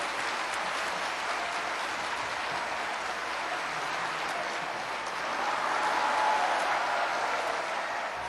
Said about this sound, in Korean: 나오실 때 힘차게 환영의 박수 하십시다.